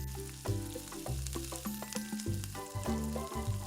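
Chicken coated in cashew and poppy seed paste being stirred and fried in a pan for chicken rezala, with a soft sizzle and repeated scraping strokes, close and quiet, with no voices.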